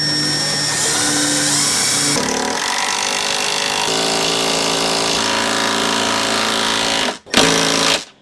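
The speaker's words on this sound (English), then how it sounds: "Let's go drive this one in. Again, no pilot hole on this." A Makita impact driver with a 9/16 socket drives a fastener without a pilot hole into the side of a wooden workbench, a loud continuous rattling hammer that shifts pitch partway through, then stops with a brief final burst.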